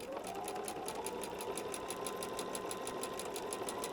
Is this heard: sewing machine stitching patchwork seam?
yes